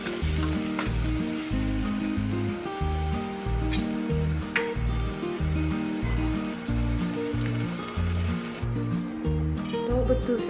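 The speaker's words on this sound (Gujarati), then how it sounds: "ઘડી બધા મસાલા એડ કર્યા છે એટલે તેલમાં ચડવા દઈશું થોડીક વાર." Spices and the base for a Gujarati-style cowpea curry sizzle steadily in hot oil, a close, continuous frying hiss with occasional stirring, under a rhythmic background music track.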